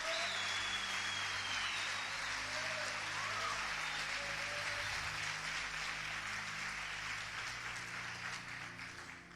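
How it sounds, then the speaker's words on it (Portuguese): A church congregation applauding at a sermon, a broad steady wash of many hands clapping that holds throughout and fades a little toward the end, with no talk over it. "Você pode aplaudir a Jesus por essa palavra?"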